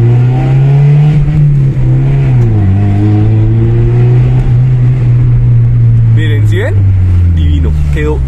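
A loud Honda car engine with a newly installed exhaust system idles with a deep rumbling exhaust, dipping and then holding steady, with sharp throttle blips near the end.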